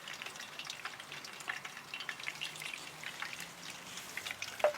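Ghee melting into hot oil in a cooking pot sizzles and crackles steadily throughout, a soft continuous frying hiss dotted with small pops, close by and fairly quiet, with no one talking.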